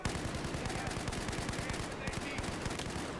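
Dense automatic gunfire from Battlefield 4 multiplayer close-quarters combat rattles in rapid bursts, loud and continuous with overlapping shots, while a voice talks underneath.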